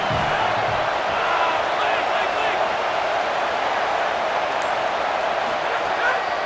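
Stadium crowd noise in the EA Sports College Football 27 video game, a dense, continuous roar building as the defense lines up on third down, with a commentator talking over it.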